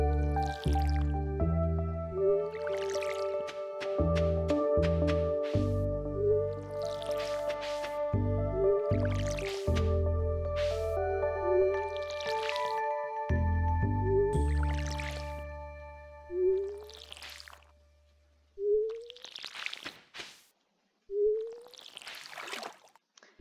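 Crops being watered in the farming video game Stardew Valley, with repeated wet, squelchy splash effects over bright game music, which drops away to leave sparse isolated splashes at the end.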